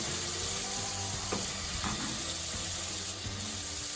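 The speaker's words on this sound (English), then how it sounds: "We're going to go ahead and add this to our marinade. And be careful because it's going to be very hot and splattering." Very hot, smoking oil hits a paneer tikka marinade with a loud, continuous, close-up sizzle and crackle that holds steady throughout.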